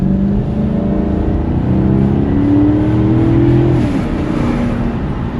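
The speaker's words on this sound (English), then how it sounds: "You can hear that it's a V8." A Maserati's V8 engine revs loudly and steadily in sport mode, its low rumble rising and falling in pitch as the car accelerates up close, with no talking.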